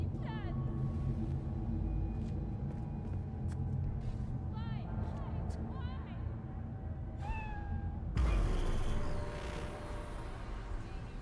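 A cat meows repeatedly in Cyberpunk, the rising mews sitting clearly over a dense game soundscape of city traffic hum and a passing engine burst, with a voice talking now and then.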